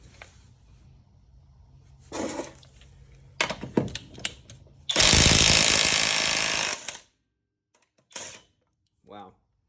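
Kobalt compact 1/2 inch impact wrench at speed 3 hammers in a loud, dense two-second burst, preceded by short clattering bursts and followed by a couple of brief knocks.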